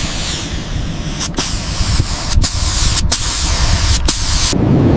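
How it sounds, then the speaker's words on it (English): Protective coating is sprayed onto the bare metal of a 1970 Dodge Charger R/T, a loud, close, continuous hiss broken by four short pauses as the nozzle trigger is released. "Sealing the metal with protective coating."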